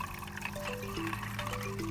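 Water flushing hard through the drain line of a Frigidaire Acqua Twin washer, a steady loud rush of liquid with a tonal gurgle running throughout, no talking.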